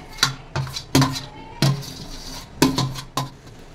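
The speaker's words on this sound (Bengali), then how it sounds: "এবার মিক্স করে নেবো ভালো করে। ভাতটাও আমি দিয়ে দেবো।" A spoon stirs half-cooked rice into soya pulao in a metal pot, knocking against the sides in about six distinct, fairly loud clanks spaced unevenly, close up with no voice.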